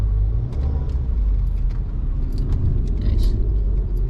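A car drives along a city street in Washington DC with a steady low road rumble and engine drone, close and continuous, with faint clinks and small noises above it and no talking.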